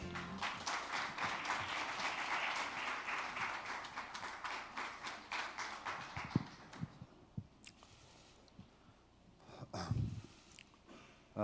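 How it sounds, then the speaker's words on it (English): An audience applauds a vice minister as he comes to the podium at an Asian economic growth conference; full, steady clapping fills the room for about seven seconds, then thins to scattered claps and a few bumps. "could you please welcome him with a big round of applause?"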